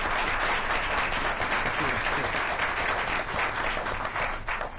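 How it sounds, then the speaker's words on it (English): Sustained audience applause for students of the month at a school board meeting, a dense, even wash of many hands clapping at once, fairly loud and steady throughout. "Let's give our students another round of applause"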